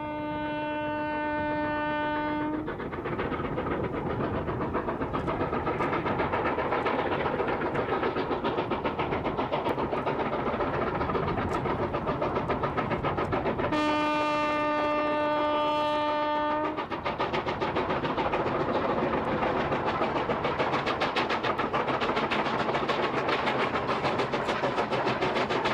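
A steam locomotive runs on a railway in China, its whistle sounding twice with long steady tones over continuous loud chuffing and rolling wheel clatter, heard without any talking.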